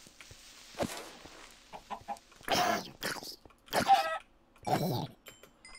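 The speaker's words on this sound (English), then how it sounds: "Why is there a chicken down here?" A chicken in the Minecraft video game clucks in a series of short, uneven bursts, several loud clucks standing out clearly against quiet game background, with no voices.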